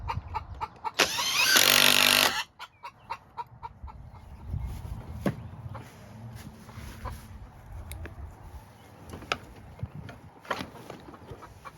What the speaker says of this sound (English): That chicken's angry because there's a broody chicken in one of the nesting boxes.